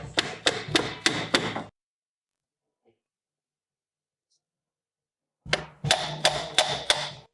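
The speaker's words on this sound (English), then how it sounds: "we'll give it a few taps with a hammer to finish the job" Metal hammer strikes on a car's outer CV joint ring out in two bursts of about five sharp, evenly spaced taps, separated by a few seconds of silence.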